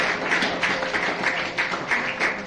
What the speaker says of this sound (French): Vous pouvez applaudir à tout cœur